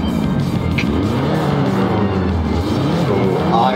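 Race cars in the Super Woden GP video game roar along steadily, a loud continuous engine drone with shifting pitch and faint tire noise.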